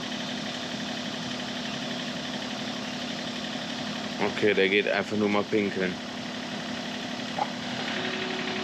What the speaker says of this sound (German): Der Motor ist an von dem Ding.